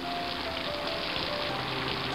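Heavy rain pours as a steady, dense hiss with faint soft tones held underneath, and no talk.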